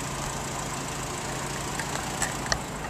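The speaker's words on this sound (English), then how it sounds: "Motor's running good." A 1976 Honda CVCC engine idling after an oil pan gasket repair, a steady, even hum with a faint rhythmic tick and a few small knocks near the end.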